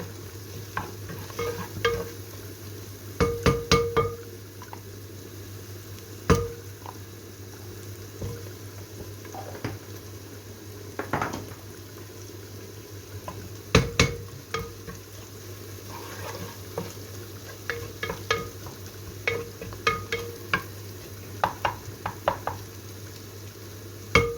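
Diced beef or lamb güveç stew simmering and sizzling in a pan, with scattered stirring clinks and scrapes over a steady low bubbling hiss; no voices.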